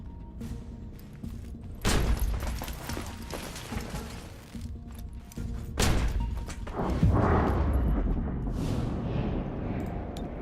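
Lancer weapon shots in the XCOM Chimera Squad video game land as heavy booming impacts, each followed by a long rumbling decay, several spaced strikes under a constant game soundscape.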